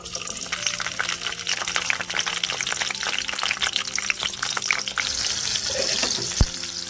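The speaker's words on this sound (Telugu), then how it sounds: "ఇప్పుడు ఫస్ట్ మనం పచ్చిమిర్చి నూనెలో వేయించుకుందాం" Green chillies sizzling in hot oil in a pan for a Telangana peanut chutney, a continuous crackling hiss with small pops, close and steady, ending with a brief clink.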